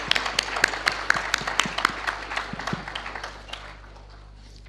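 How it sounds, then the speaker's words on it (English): Applause from a lecture audience, a scattered crowd of claps that thins out and fades to quiet room tone. "please give another big round of applause to Professor Kroto, please."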